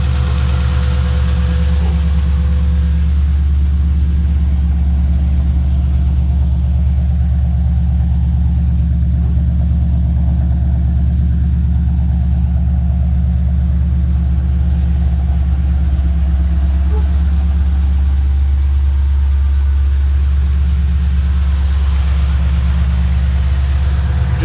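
A 2007 Ford Shelby GT500 engine with a VMP Gen 2 supercharger idles in cold weather, a loud, steady low-pitched drone with a constant rumbling pulse and a faint whine, alone without voices.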